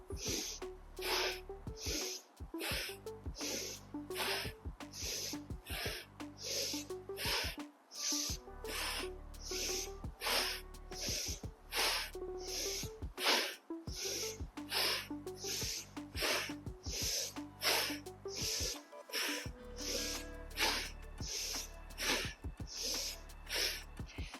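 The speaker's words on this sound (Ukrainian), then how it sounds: "Тільки ми потужний робимо вдих, потужний видих." Forceful, rhythmic breaths in and out during a breathing exercise in a back and shoulder workout, repeating steadily and close for the whole stretch, with no talk.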